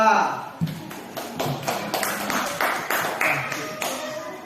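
Classroom applause from a fifth-grade class for a student group, a short patter of claps under a teacher's voice speaking over it.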